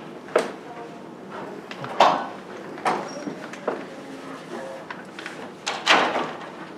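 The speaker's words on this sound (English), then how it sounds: "Close that door." A door in a large meeting room is pushed shut, giving several soft thuds and knocks spread across a few seconds amid faint room shuffling.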